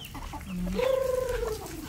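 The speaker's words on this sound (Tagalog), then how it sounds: "Siguradong gutom na tong mga manok ko, nandito na sila oh." A chicken clucks nearby, a low cluck followed by a longer, drawn-out warbling call, with faint farmyard noise behind.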